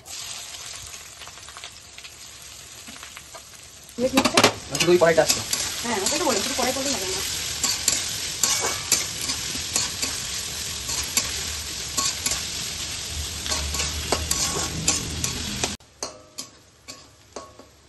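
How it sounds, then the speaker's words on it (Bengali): Chopped onions hit hot oil with whole garam masala and bay leaves, setting off a loud burst of sizzling that settles into a steady fry with repeated scraping and stirring clicks, then cuts out near the end. "তো এবার তেলের মধ্যে দিয়ে দিলাম গোটা গরম মশলা আর 2টো তেজপাতা, আর এখন দিয়ে দেবো ওই কেটে রাখা পেঁয়াজ"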